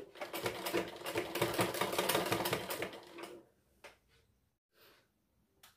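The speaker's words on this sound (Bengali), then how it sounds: "আমি মেশিনে সেলাই করে দিচ্ছি।" A sewing machine stitches fabric in a quick rattling run for about three seconds, then stops, followed by a few faint handling clicks in near silence.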